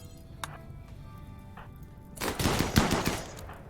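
Automatic gunfire from a turret in the colony-survival game RimWorld, a dense burst of rapid shots rising loud in the second half after a couple of faint isolated pops.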